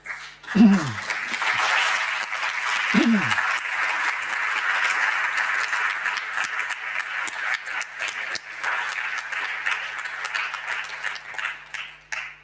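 Audience applause at an Oxford debate on Europe's economy and China, a long, steady round of clapping filling a large hall, with a couple of brief voice sounds near the start and the clapping thinning toward the end.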